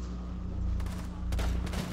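Gunfire bursts from the tactical shooter game Rainbow Six Siege, a few sharp reports over a constant low game hum, heard close and fairly loud.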